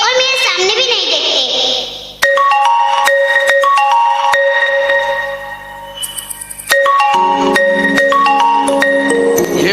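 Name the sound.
phone ringtone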